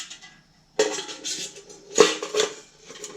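Metal camping pot clatters and rattles inside a Bushbuddy metal stove in a few sharp bursts, with quieter scraping and shifting between them, close by.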